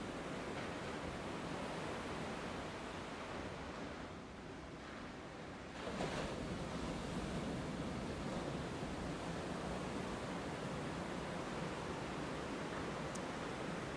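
Waves washing at the water's edge along a shore: a constant, soft hiss of surf that dips briefly then swells again, faint and steady with no voices.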